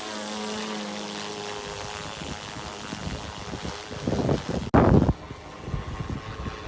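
A small drone whirs steadily as it flies, its rotor drone swelling louder and rougher as it comes down to land, with a brief gap and burst of wind noise near the end, no talking.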